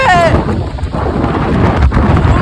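Storm over a village in Chhattisgarh, with loud, continuous roaring wind and low rumbling like thunder filling the whole stretch, close and heavy, with no clear speech.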